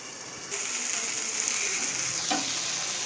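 Barramundi fish frying in oil under a lid, a constant crackling sizzle that jumps louder after half a second and stays steady and close.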